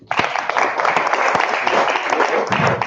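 A room full of forum attendees clapping, dense and sustained, filling the whole stretch without a break.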